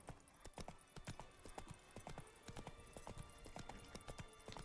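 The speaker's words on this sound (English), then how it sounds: "Niente, se premo shift non corre Rutilla." Horse hooves clip-clop at a steady galloping rhythm in The Witcher 3: Blood and Wine, sharp repeated thuds close and loud over a faint ambient game background.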